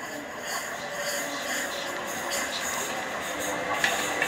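A London train approaching a station platform, a steady mid-distance rumble and hiss of wheels on rails that holds fairly constant, with a brief clank near the end.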